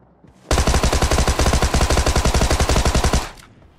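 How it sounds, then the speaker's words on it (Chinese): Automatic gunfire in a PUBG-style battle royale video game: one loud, close, sustained burst of rapid evenly spaced shots lasting about three seconds, then abrupt silence. "这个枪声是人机吧？"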